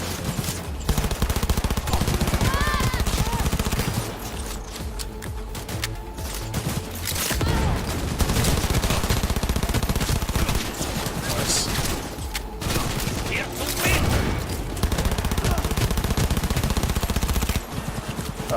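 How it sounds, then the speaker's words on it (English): Dense video-game gunfire shoots down stunned police officers: rapid machine-gun bursts and volleys of shots fill nearly the whole stretch, loud and continuous with brief gaps, while a voice talks at times underneath. "So when they're stunned, you can just shoot them down."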